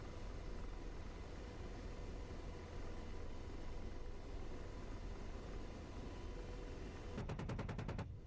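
An AH-64D Apache's 30mm cannon fires a rapid burst of about ten evenly spaced shots near the end, heard over the steady, loud drone of the helicopter's engine and rotors in a DCS combat flight.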